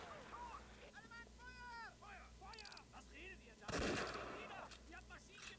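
Gunfire and artillery in the Close Combat wargame, scattered shots and booms with one heavy blast, heard faintly under a man's speech.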